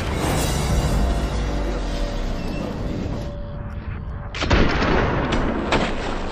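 Rifle fire in Hunt: Showdown, a dense rumble of battle followed by a sharp loud gunshot with a booming tail, close and alone without voices.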